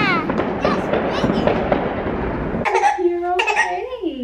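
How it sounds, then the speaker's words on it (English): Fireworks going off outdoors on Pioneer Day, a dense crackling and booming barrage for the first few seconds, followed by voices and a child's giggles and laughter close by. "Watching fireworks?"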